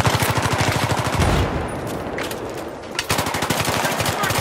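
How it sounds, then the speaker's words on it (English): Rapid automatic gunfire in Battlefield 3 multiplayer combat, steady loud bursts running nearly throughout, easing briefly in the middle before resuming hard, with no talk over it. "he's shooting at everybody right now"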